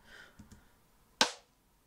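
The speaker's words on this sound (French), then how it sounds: "Donc on entend pas mal la snare quand même." Lo-fi drum pattern with snare and rimshot samples: a few faint, soft ticks followed by one sharp, crisp snare hit that decays quickly into silence.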